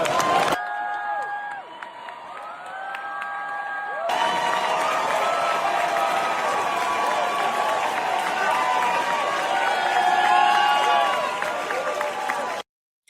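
An audience at the Grammys applauds and cheers. A dense crowd roar of clapping and shouting swells after a quieter, music-like opening, then holds loud before cutting off abruptly.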